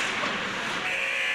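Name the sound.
buzzer sounding at end of hockey period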